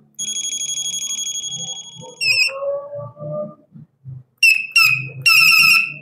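Electronic bicycle horn buzzer stepping through its sound modes: a steady beeping tone, then short chirps and warbling bursts, close and loud, with faint low handling noises between.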